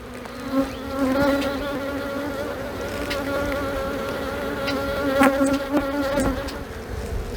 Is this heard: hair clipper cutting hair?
no